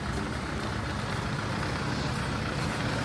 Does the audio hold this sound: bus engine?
yes